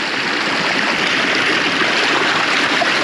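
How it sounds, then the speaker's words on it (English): Water gushing steadily from the outlet end of a 4 inch gravity dredge, a loud, continuous broadband rush like a stream or small waterfall, close by and alone with no talk. "Looks like there's a water coming out."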